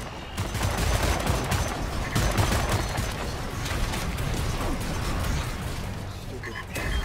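Dense, sustained automatic gunfire aimed at giant robots in a first-person shooter, a constant loud barrage of overlapping shots and impacts with no pause.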